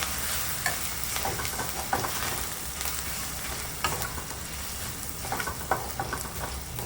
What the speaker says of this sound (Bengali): আদা বাটাটা ভালো করে তেলে নেড়ে চেড়ে নেবেন